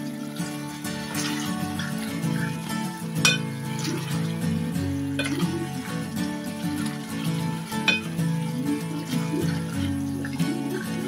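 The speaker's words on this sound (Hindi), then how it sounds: "तो देखिए हमें अभी थोड़ा इसे अच्छा चलाते रहना है, टमाटर को अच्छे से भून लेना है" Tomatoes with spices being stirred and sautéed in a pan for turai dal sabzi, a steady sizzle under music with occasional sharp clinks of a spoon against the pan.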